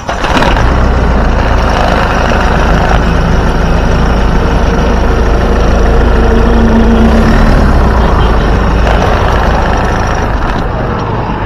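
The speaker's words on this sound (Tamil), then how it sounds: "வாங்க வண்டியோட இன்ஜின் சவுண்ட் எப்படி இருக்குது அப்படின்றத கேட்போம்." A 2013 Mahindra Scorpio SX engine idles with a steady, loud, low rumble that holds evenly throughout without any revving.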